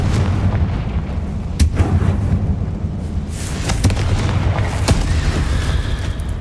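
A Confringo fire spell explodes in Hogwarts Legacy, heard as a continuous heavy rumbling roar broken by several sharp booming bursts, loud and close throughout.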